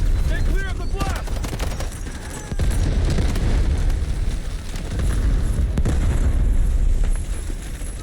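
Heavy explosions and bursts of gunfire in the shooter game Delta Force, a continuous loud, rumbling battle din with sharp cracks throughout and no clear gaps.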